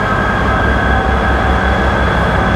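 A train at Inverness station, a loud, close, continuous rumble of carriages on the rails with a faint high whine running steadily throughout and no voices.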